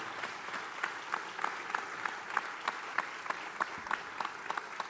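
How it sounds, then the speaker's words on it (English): At a Chicago police valor awards ceremony, a hall audience applauds with moderate, continuous clapping, some individual sharp claps standing out from the steady patter. "Let's give them a round of applause."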